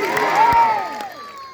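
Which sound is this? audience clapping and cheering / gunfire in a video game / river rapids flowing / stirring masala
audience clapping and cheering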